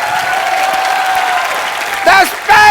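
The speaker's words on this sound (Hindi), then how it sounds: "जोरदार तालियों से स्वागत कीजिए" A studio audience applauds to welcome a guest, steady clapping under bright tonal music, with short bursts of sound near the end.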